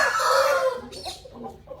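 A fighting rooster crows once, loud and close, its call trailing off into a few softer clucks.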